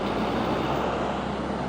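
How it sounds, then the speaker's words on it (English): A hop-on hop-off tour bus passing on Nelson Street in Vancouver's West End, a steady close engine rumble and road noise that fills the moment without voices. "Here goes one of the hop-on, hop-off buses"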